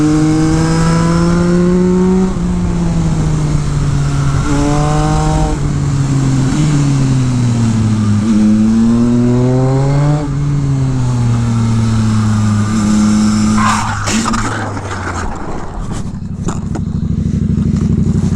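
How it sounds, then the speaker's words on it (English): A motorcycle engine revs hard up and down through the gears as it speeds along a road, then a harsh scraping clatter marks the bike sliding out in a crash, followed by a low rumble. "the bike loses grip and slides right out from under him"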